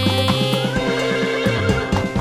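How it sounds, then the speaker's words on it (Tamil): A horse neighs loudly and close in a children's animal song, a shaky whinny with clip-clop rhythm and music around it, no speech. "குதிரை சொல்லும் நை நை நை நை நை நை"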